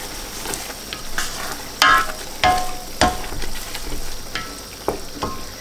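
Chicken palak paneer balti is stirred in a hot pan over high heat, with spoon scrapes landing at an irregular rhythm over a steady close sizzle and no talking.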